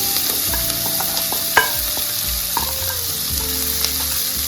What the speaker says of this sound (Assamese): এতিয়া মই সৰুকৈ কটা পিঁয়াজখিনি দি দিছোঁ।